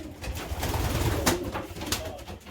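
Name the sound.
racing pigeon cooing while held in hand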